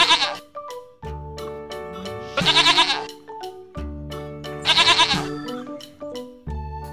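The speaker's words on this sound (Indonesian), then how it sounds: "Ada dua ekor kambing warna coklat." Two brown goats bleat loudly in bursts over a steady droning hum, with two especially strong cries standing out around the middle and end.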